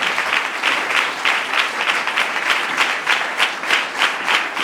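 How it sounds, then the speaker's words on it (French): Warm congregation applause at a church's 30th-anniversary service in Thomassin, steady rhythmic clapping from a crowd, fairly loud and close, with little talk over it. "Nous demandons un très chaud d'applaudissement pour tout le monde."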